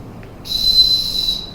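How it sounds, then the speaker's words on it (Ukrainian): An emergency whistle blown hard in a single long, steady, piercing blast that starts after a brief quiet moment and holds for about a second over low background noise. "Не крик про порятунок, а саме свисток значно підвищує шанси, що вас швидко знайдуть під завалами."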